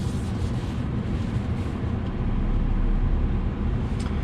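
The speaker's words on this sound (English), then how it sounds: "let's take this car for a drive and see how it does" A 2020 BMW 330i on the move, with steady broadband road and engine rumble and tire noise holding loud and continuous throughout and no talk.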